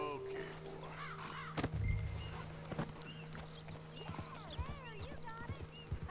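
Horse in Red Dead Redemption 2 shifting and clopping its hooves in a few uneven thuds amid outdoor ambience with birdsong and crow calls, faint and close, with a brief snort-like burst.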